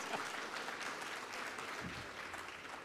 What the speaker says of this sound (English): Let's have one big round of applause for Russell Bhai.